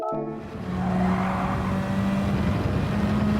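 A race car in Gran Turismo 7 at the Red Bull Ring drops a gear, then its engine drones steadily under throttle through a corner, loud and close, with faint tire noise and no talking.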